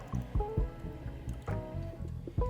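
Water from a drinking fountain splashes and drips into a basin that does not drain, with gurgling, irregular liquid sounds and soft squishy bursts close by, without any talk.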